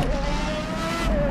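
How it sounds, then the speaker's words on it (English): Race car engine droning at high, steady revs on the Interlagos circuit, a loud sustained tone that dips slightly near the end, with no voices. "This car has such a nice engine sound."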